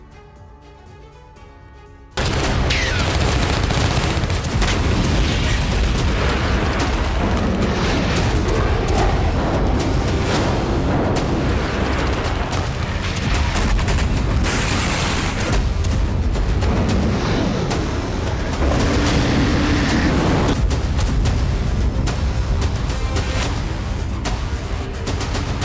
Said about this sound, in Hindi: सन्नाटे के बीच रह रहकर गूंज रहे हैं धमाके